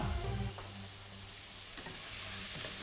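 Noodles with sauce are stir-fried in a pan for Hong Kong-style shrimp noodles, a steady close sizzle with scraping stirring strokes and no voices.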